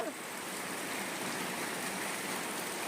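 Rain falls steadily during the monsoon season, a continuous soft wash of hiss that stays even and fairly faint throughout, with no distinct drops or other sounds standing out.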